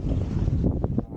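Strong wind buffets the microphone at the top of an island above choppy sea, a dense roaring rush that eases near the end, with a voice briefly heard.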